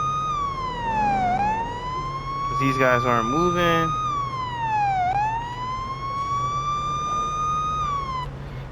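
Police car siren in the video game Police Simulator: Patrol Officers, a loud wailing tone sweeping slowly up and down, briefly joined by a rapid yelping burst, while someone talks over it.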